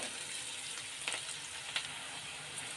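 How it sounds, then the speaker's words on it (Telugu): Onions with a pinch of salt frying in a pan give a steady, soft sizzle with a couple of faint stirring scrapes, no voices over it. "ఉల్లిపాయలు తొందరగా ఫ్రై అవ్వాలి అంటే కొద్దిగా సాల్ట్ అనేది వేసుకుంటే మంచిగా ఫ్రై అవుతాయి."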